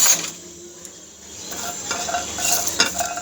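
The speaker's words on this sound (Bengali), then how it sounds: "তাওয়াতে রসুনগুলোকে আমি নেড়ে চেড়ে" Garlic cloves stirred around a dry tawa griddle over a lit stove, giving close scraping and clinking of a utensil against hot metal with a faint sizzle, irregular strokes growing busier toward the end.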